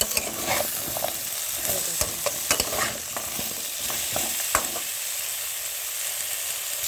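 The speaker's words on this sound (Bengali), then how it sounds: "গাজর দিয়ে দিলাম। এগুলোকে লাল লাল করে ভেজে নেব।" Carrots frying in hot oil, a continuous sizzle punctuated by sharp clicks and scrapes of stirring in the pan, busier in the first few seconds and settling into a steady hiss, no talking.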